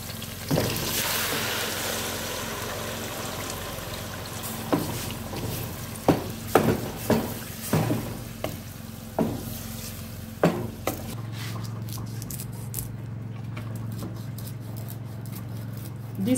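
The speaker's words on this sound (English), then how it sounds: "set my tomato on the burner to start frying" Tomato frying on a stovetop burner as a pepper fish stew begins: a steady broad sizzle throughout, broken by several sharp clatters and stirring knocks around the middle, then a lower steady hum toward the end.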